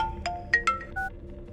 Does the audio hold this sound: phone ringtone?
yes